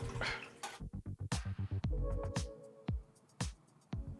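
Water splashes and drips while a kettle is rinsed out, with loud sloshing bursts at the start and then a run of close, separate drops and splashes spaced irregularly.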